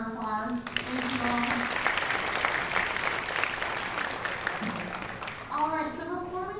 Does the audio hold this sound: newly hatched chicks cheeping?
no